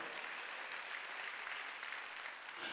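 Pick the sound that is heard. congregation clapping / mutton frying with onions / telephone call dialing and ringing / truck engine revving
congregation clapping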